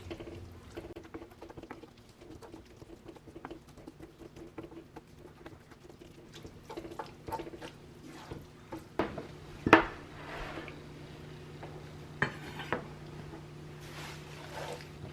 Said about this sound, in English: we're just going to give this a light stir up here